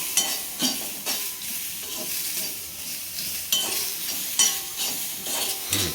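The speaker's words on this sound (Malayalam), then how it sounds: "ഉള്ളി നല്ലപോലെ ബ്രൗൺ കളറായപ്പോൾ ഉള്ളി ഒന്ന് വഴന്ന് വരട്ടെ" Onions sautéing in a pan, seasoned with salt and browning, with a soft continuous sizzle broken by periodic sharp stirring scrapes and clinks of a spoon against the pan, close and alone.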